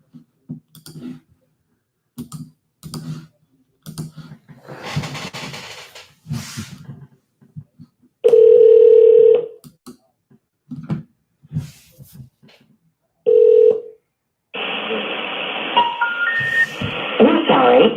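A telephone call to an office line: a dialing tone and bursts of ringing come through between stretches of talk and clicks, ending in a longer tonal passage.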